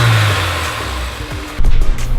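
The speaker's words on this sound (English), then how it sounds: "That is a smooth, steady S2000 idle." A Honda S2000 sports car engine rumbles at a smooth, steady idle nearby, its low tone shifting slightly with a brief bump in level near the end.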